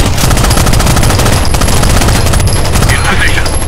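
Sustained automatic gunfire from the video game Rainbow Six Vegas, loud and continuous with rapid bursts throughout, with game voices faintly mixed underneath.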